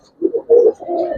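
A Giribaz pigeon on a pigeon farm gives a few close, clear coos in short rising and falling bursts, with no one talking.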